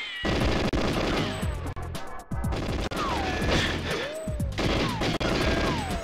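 Rapid gunfire bursts from GoldenEye 007 crack and rattle almost continuously, dense and loud, with brief gaps between volleys and sharp ricochet-like whines cutting through.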